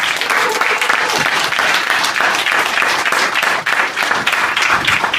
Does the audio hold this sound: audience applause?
yes